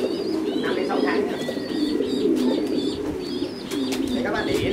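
Thai Titan meat pigeons about five to six months old coo continuously at a pigeon farm, soft throaty calls overlapping with chirps nearby, with someone talking over them.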